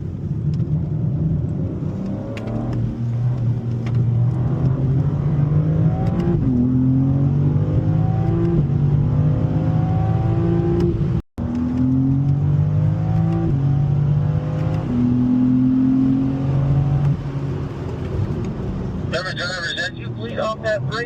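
A BMW M car's engine hums and whirs steadily, running at low speed on a race track at a driving school in Spartanburg, South Carolina, with a voice giving instructions over it and the drone changing pitch slightly throughout.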